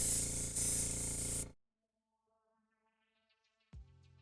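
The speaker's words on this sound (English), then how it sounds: "I didn't have to spray out a whole crap load of water in the nozzle or anything." An airbrush blasts water and airbrush cleaner out through its nozzle in a loud, steady hiss lasting about a second and a half, then cuts off abruptly, leaving faint ticks and a low hum.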